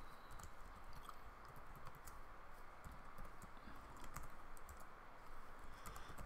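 Code being typed on a computer keyboard, a quiet, steady patter of key clicks with uneven rhythm over low room noise, with no talking.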